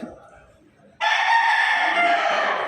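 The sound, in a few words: rooster crowing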